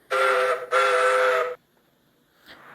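Steam engine whistle of Luke from Thomas & Friends, two loud sustained blasts in quick succession, the second longer, followed by a faint brief toot after a pause.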